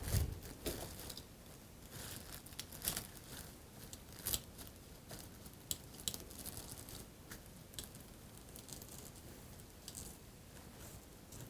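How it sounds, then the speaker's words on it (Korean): Scissors snip through a clear plastic vinyl sheet, cutting it into a circle for a homemade parachute: quiet, irregular crisp snips and crinkles, close up with no talking. "이렇게 해서 비닐을 다 잘랐습니다"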